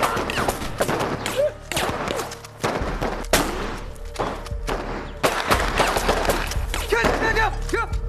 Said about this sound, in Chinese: 停止射击！